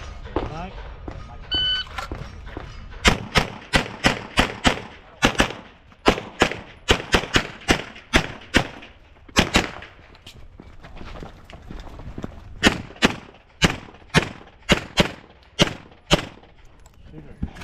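A rhythmic string of loud, sharp pistol shots fired at a target array in a Limited-division shooting match with an Infinity pistol, about twenty evenly spaced reports over roughly fifteen seconds, close by, with brief gaps between strings.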